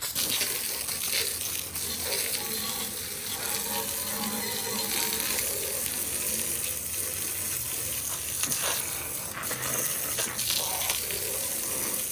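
Steady broadband hiss and spatter of water spraying hard from a pressure hose while cleaning a car, continuous and fairly loud throughout with no talking.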